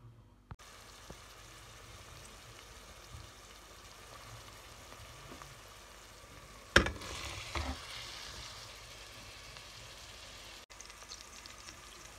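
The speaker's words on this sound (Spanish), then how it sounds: "ya está sofriéndose los pimientos con la cebolla y el ajo, con aceitito" Peppers, onion and garlic sizzle quietly in hot oil, a soft steady crackle, with a brief louder clatter of stirring partway through.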